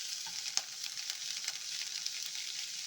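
Grated coconut settles into onion and chili masala in a hot pan with the stove just switched off, a steady close sizzle with a few soft stirring taps.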